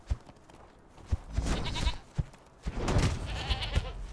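Goats bleating in a survival crafting game, several bleats rising and falling over a steady low background, fairly close and loud.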